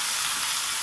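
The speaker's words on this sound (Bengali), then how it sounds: "এবার এই কড়াইয়ের তেলে বেগুনগুলোকেও ভেজে নেব।" Eggplant pieces fry in hot oil in a karahi, giving a brief, steady, close sizzling hiss with no other sounds.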